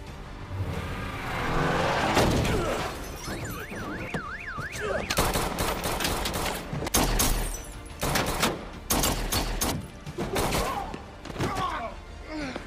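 Gunfire in a John Wick film fight scene, bursts of sharp shots and heavy thuds mixed with impacts, music and a car, dense and loud throughout.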